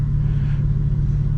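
Cabin drone of a manual F80 BMW M3 engine under way, a loud, steady low rumble with a firm tonal hum, holding constant through the brief moment.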